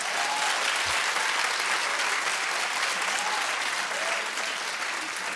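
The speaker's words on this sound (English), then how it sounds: "clap if you're disappointed because all she did was come out there and sit and get escorted" A studio audience on a daytime talk show claps in a dense, steady burst that holds evenly throughout, loud and continuous with no talk over it.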